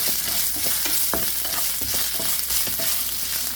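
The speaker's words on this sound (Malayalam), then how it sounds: "ഈ കാഷ്നറ്റും കപ്പലണ്ടിയൊക്കെ ഒന്ന് നന്നായിട്ട് റോസ്റ്റായിട്ട് വന്നോട്ടെ" Cashews and peanuts rattle and scrape as they roast in a hot pan over a steady sizzle, with repeated stirring clicks close by.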